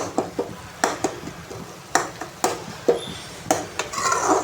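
Utensil knocks against a pan while tomatoes are mashed down for tomato thokku, a series of sharp, close taps and scrapes spread at irregular intervals, with a soft sizzle rising toward the end and no talking.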